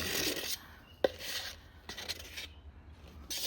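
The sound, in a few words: scraping resin out of a mold with a soft spatula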